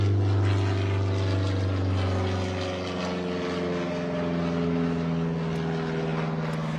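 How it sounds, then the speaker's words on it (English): A propeller airplane passes overhead, a steady loud droning engine hum with strong low tones that holds throughout without fading, with no talking over it. "I'll wait for the plane."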